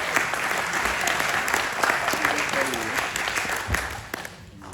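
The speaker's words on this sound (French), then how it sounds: "sous vos applaudissements, s'il vous plaît." Applause from an audience at the official presentation of the 2024 French Enduro Championship round in Langeac, greeting the championship president as he is called up. A dense, steady wash of clapping holds for about four seconds, then thins and fades at the end.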